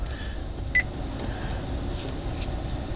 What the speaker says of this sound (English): you can simply from your car actually dial a phone number